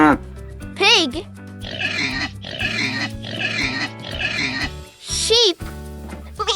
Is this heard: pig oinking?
yes